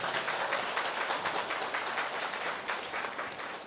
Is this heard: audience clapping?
yes